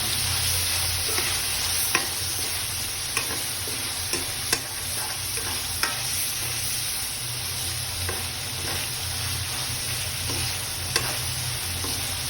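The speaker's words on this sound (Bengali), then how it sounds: "আমি সব কিছু মরিচ দিয়ে সব মাখাই নিচ্ছি একসাথে" Beef mixed with chili spices and sautéed in a pan, a steady moderate sizzle with occasional soft clicks and scrapes of stirring, close and unbroken by voices.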